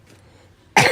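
A quiet pause ends in a single sharp, close cough that bursts in loudly at the very end.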